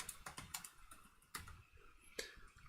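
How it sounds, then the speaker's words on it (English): A computer keyboard clatters as a poll is typed out, a few quiet scattered keystrokes with brief pauses between bursts. "let me just type that out"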